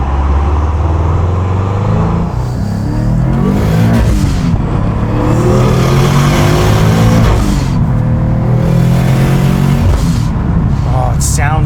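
A Subaru WRX tuned to 424 wheel horsepower with a stock 5-speed accelerates hard, the engine revving up loudly through several gears with rising whine and exhaust roar, close and continuous, while someone talks over it.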